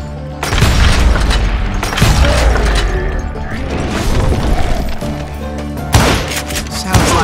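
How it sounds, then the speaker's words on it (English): Gunfire in the Call of Juarez Gunslinger demo, heavy booming shots and crashing impacts that come in a dense, loud barrage with brief lulls and sharp bursts near the end, with speech mixed underneath. "Sounds like Garrett hired a whole regiment of hired guns"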